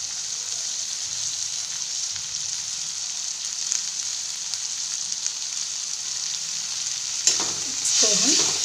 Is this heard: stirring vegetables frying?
yes